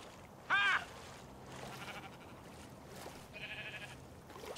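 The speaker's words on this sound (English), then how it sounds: "That's a sheep right there." In Minecraft: Story Mode, a sheep gives one short, clear bleat near the start over a low ambient game background.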